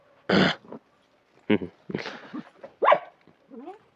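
A dog barks a few times in short separate bursts with pauses between, fairly close, ending in a soft whine.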